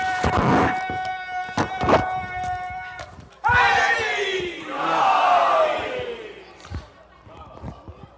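Crowd at an Eid-e-Ghadeer religious gathering loudly chanting slogans in unison, two surging waves of massed voices answering a leader, with sharp bursts and a voice speaking between them.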